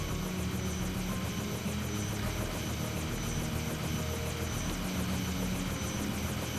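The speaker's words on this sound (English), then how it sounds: "fucking chopper." Helicopter in a war video game, a loud continuous thudding rotor chop with an engine whine, steady and close throughout with no talk.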